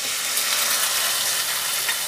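Masala paste for a Konkani Malvani-style prawn curry hits a hot pan over a wood-fired stove, giving a steady, close hissing sizzle with no voices.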